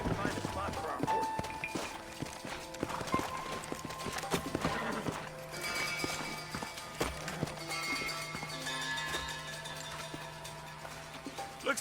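Horse hooves in the video game Red Dead Redemption, a quiet galloping clip-clop under a steady bed of game sound, with voices talking now and then.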